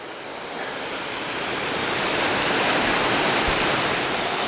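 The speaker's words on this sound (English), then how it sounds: "there's waterfalls all the way." A loud, continuous roar of rushing water from a nearby waterfall, steady and building slightly in the first seconds.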